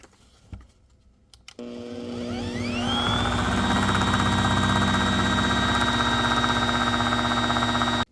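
An electric mixer creams a mixture of melted chocolate and butter for loaded chocolate cookies, starting after a few clicks and ramping up to a loud, steady motor whir that holds to the end.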